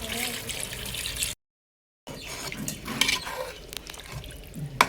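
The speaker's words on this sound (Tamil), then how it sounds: "இப்போ மசாலா தண்ணி ஊற்ற போகிறேன்" Masala water pours into a cooking pot of village-style chicken kurma, a steady splashing and running liquid sound, loud and close, broken by a short gap before more watery rushing and clatter.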